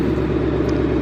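A Ford Mustang with a 10R80 transmission idles and pulls away with a steady, close low engine rumble that holds even for about a second.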